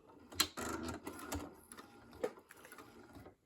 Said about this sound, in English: So we're first going to just take just a few stitches.